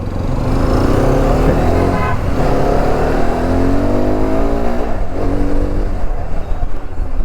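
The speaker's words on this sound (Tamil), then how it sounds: "ஃப்ரெண்ட்ஸ் இப்போ தான் எக்ஸ்பல்ஸ் வந்து டெஸ்ட் ட்ரைவுக்கு எடுத்திருக்கோம்" A Hero Xpulse 210 motorcycle on a test drive roars steadily and loudly up close, its engine note rising and falling over heavy wind rush.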